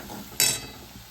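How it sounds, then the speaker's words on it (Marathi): Masala for sambar fries in oil in a pan, a quiet sizzle with one brief scraping stir of a spoon, then the hiss fading back down. "परतून घ्यायचा आहे मसाला एकजीव करून घ्यायचा आहे"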